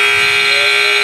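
Basketball game buzzer sounding at the end of the half in a 16U tournament game, a loud, steady electronic tone held for the whole second with no break.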